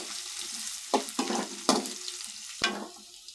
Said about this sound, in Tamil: கருவேப்பிலை ஆட் பண்ணி இதுவும் நல்லா வறுத்துக்கணும்.